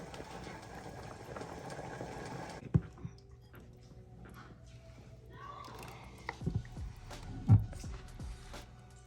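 Zuppa Toscana simmers in a pot with a low, steady bubbling and a few soft knocks and clinks, faint in the background.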